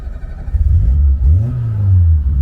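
A Citroën AX Sport circuit race car starts up and revs close by, with a short low cranking burst followed by a rising and falling rev of the engine, all loud with no talk.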